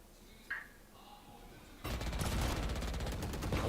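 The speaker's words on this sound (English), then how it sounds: "Shots going out." Rapid Valorant gunfire bursts in abruptly after a quiet stretch with a faint early chirp, then rattles on densely and loudly to the end, no talk.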